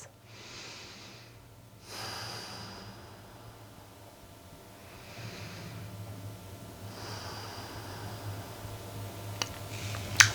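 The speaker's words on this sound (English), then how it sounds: "Inhale, lengthen, exhale, twist. 2 more big breaths." During a seated yoga twist, a person takes slow, deep breaths through the nose. Several long inhales and exhales are close and soft over quiet room noise, ending with a small click.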